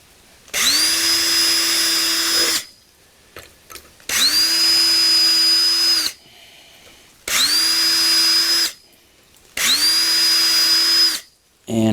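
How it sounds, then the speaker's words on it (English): A power drill pre-drills holes for heavy duty garage shelves in four long bursts, each spinning up with a high whine and cutting steadily before stopping, with short pauses between. "Now we're going to pre-drill."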